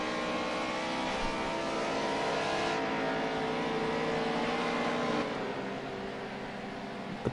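Historic touring cars, a BMW, a Mercedes and a Ford, race past with steady loud engine roar and shifting revs. The noise shifts in pitch partway through, then eases slightly, with no talk over it.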